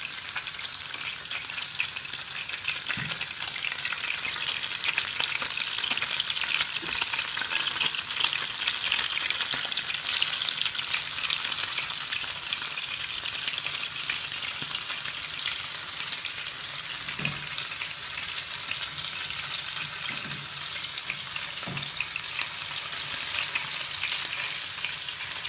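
Breaded camembert fries in a pan, a continuous bright crackling sizzle that holds steady throughout, with a few faint soft knocks scattered in.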